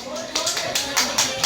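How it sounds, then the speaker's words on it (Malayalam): Audience hands clap at an Onam celebration prize giving in a short burst of uneven clapping, with a voice speaking over it. "നല്ലൊരു കൈയടി കൂടെ."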